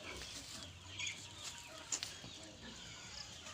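Native chickens cluck softly at a distance over a light outdoor background, with a few sharper bird calls scattered through.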